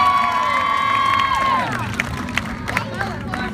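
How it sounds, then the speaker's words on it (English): A street performance crowd on Atlantic Avenue breaks into cheering and whistles after a sword juggling act, with a high whistle and shouts rising into scattered clapping and lively crowd noise. "I think they deserve a round of applause"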